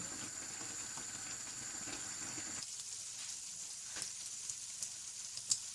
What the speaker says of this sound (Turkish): Şöyle harla ateşte bir dakika kadar daha bekleteceğim güzelce içine çeksin.